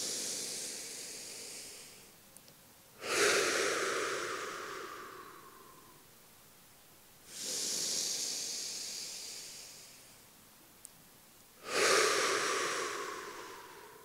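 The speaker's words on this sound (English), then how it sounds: "Inhale through the nose and out through the mouth." Three slow, deep guided breaths at a communal gathering, each a loud, airy inhale through the nose drawn out into a long, fading exhale through the mouth, with quiet pauses between them.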